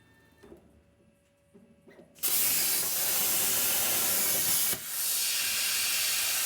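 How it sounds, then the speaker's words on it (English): An angle grinder works on a truck frame to clear room for rear shocks, starting abruptly after quiet shop noise and holding a loud, steady, harsh hiss with one brief dip partway through. "just grinding the frame a little bit, get ready to put these pieces on."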